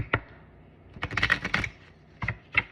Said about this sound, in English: Thank you all for your patience as we shuffle.